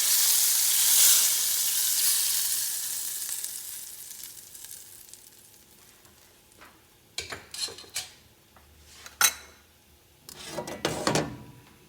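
Hot oil tempering with a spoonful of Kashmiri chilli poured over a brinjal and potato curry gives a loud sizzle that slowly fades, followed by sharp clinks of a spoon and pan.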